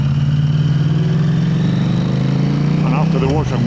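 KTM 890 Adventure R motorcycle with an Arrow exhaust idling close by, a steady low, lumpy throb held throughout with a brief blip of revs near the end.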